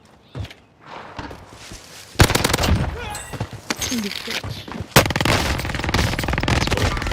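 PPSh submachine gun fire in a video game, with rapid bursts of automatic shots, a long sustained rattle near the end, loud and close amid other game noises and scattered footsteps, with voices talking at moments.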